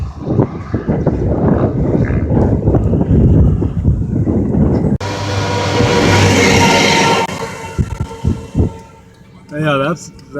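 A train rolls past on a windy day near Stromsburg, Nebraska, its loud rumble and clatter mixed with microphone wind buffeting, followed by quieter roadside noise and a brief voice at the end.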